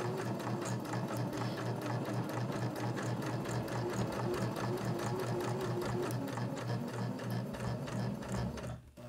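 A home sewing machine runs a steady zigzag stitch along a fabric edge on a small beginner project, a continuous rapid mechanical patter that stays loud and close for the whole stretch, then stops at the end.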